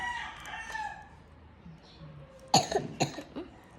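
A short burst of a few coughs comes close after quiet background, with a rooster crowing faintly in the distance.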